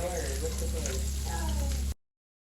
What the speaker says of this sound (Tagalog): Lagay po muna natin yung garlic.